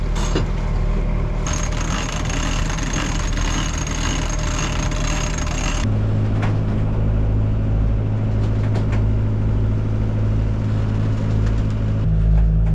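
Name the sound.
sailboat running on its engine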